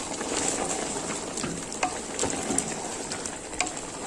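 Steady sizzling and frying of chicken with salt and turmeric in a pan over a medium flame, the chicken releasing water, with occasional stirring clicks and pops, continuous and fairly close.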